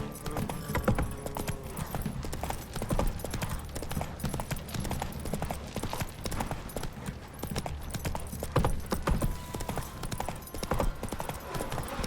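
Horse hooves clip-clop steadily in The Witcher 3, the rhythmic gait running through the whole stretch amid dense in-game music and ambience, with occasional brief voices.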